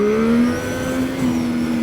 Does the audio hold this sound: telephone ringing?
no